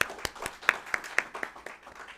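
A few audience members clap at a university academic event, a thin, uneven handful of claps at close range with a soft room background.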